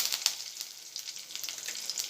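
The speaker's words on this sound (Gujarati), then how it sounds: "રાઈ તતળવા લાગી છે।" Mustard seeds splutter and crackle faintly in hot oil in a home kitchen, a soft continuous sizzle dotted with small pops.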